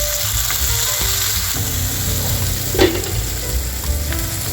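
Garlic, onion and tomato sizzle in hot oil in a pan for pinakbet, a steady broadband frying hiss with occasional stirring scrapes and one louder clatter near the middle, close and fairly loud with no talking.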